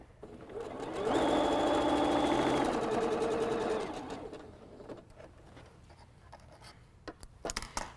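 A sewing machine runs a quarter-inch seam on quilt pieces for a Snail's Trail block, a steady close whir lasting a few seconds before stopping, followed by quieter handling clicks and rustling.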